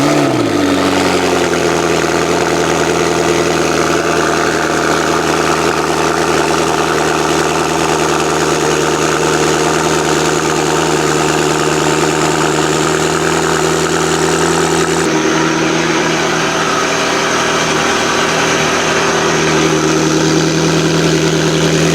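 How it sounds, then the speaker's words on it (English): McLaren 12C fitted with an FI exhaust idling: a loud, steady, deep engine drone held for about twenty seconds, its tone shifting slightly partway through, with no voices. "I haven't heard the FI exhaust on the 12C."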